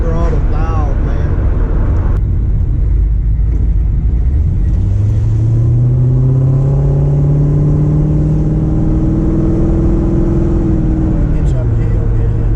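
The LS-swapped Chevrolet Nova's V8 rumbles loudly from inside the cabin as it pulls uphill, revs climbing in a rising tone before easing off, with people talking over it.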